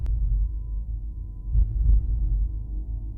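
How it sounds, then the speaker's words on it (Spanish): Slow, distant heartbeats pulse faintly through a dark, low hum, a couple of soft thumps rising out of the murky drone. "escuchando algunos latidos lejanos"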